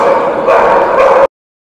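Dogs at an English Setter show giving loud, close, continuous barking and yelping with overlapping voices, ending abruptly.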